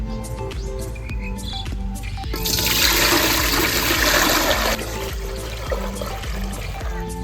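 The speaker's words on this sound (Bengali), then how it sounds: "ডেচকি চাপিয়ে দিচ্ছি। দিয়ে দিচ্ছি পরিমাণ মতন জল।" Water pours into a cooking pot for boiling rice, a steady rushing splash for about two seconds in the middle, close by, over a quiet room hum with light background chirps.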